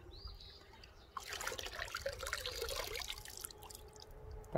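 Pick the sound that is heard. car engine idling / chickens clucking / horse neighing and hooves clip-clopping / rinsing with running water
rinsing with running water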